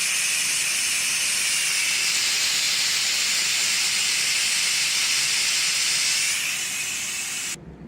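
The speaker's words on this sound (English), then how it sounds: "After this stops, the steam stops coming out" Loud, continuous hiss of steam venting from an electric pressure cooker cooking chicken tortilla soup, holding steady for several seconds before tapering off and cutting out at the end.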